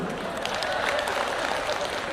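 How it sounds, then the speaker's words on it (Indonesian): Women in the audience at an Indonesian Islamic sermon clap their hands, a brief and fairly soft patter of many hands heard from a distance. "Ibu-ibu kok tepuk tangan?"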